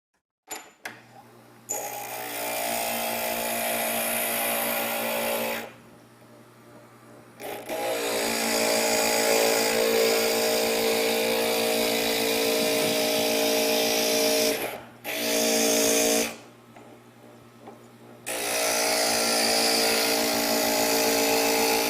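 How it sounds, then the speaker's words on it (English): A glass grinder with a diamond-coated bit grinds pieces of stained glass in a crafting session, a steady motor whine with gritty grinding that runs in several long stretches separated by short pauses. "If you find yourself pushing really hard for your grinder to work, it means that you've worn off the diamond coating at that spot on"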